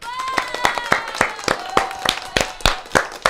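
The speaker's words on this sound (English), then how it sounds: "Let's give a round of applause for that." A handful of people clap irregularly in a casual online hangout, with sharp separate claps mixed with talking voices.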